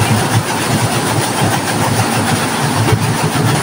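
A multi-head embroidery machine with every head running, producing a loud, steady mechanical drone with rapid rhythmic clatter that holds constant from start to end.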